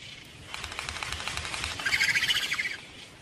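Frigate birds and gannets over a reef, heard as rapid rhythmic wingbeats and flapping alongside faint chirps, steady and fairly close, growing stronger toward the end.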